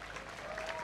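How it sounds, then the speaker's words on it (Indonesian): Applause from the large crowd at the Balinese governor's opening of the Bung Karno Month celebration in Bali, a dense, steady patter of clapping through the whole moment at moderate loudness. "Tepuk tangan untuk Bung Karno."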